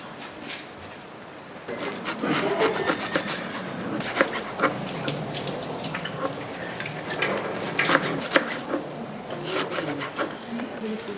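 A knife slices quarters of cabbage for sauerkraut on a wooden board, making a run of crisp, close cutting and rubbing crunches in an uneven rhythm that grows busier after the first couple of seconds.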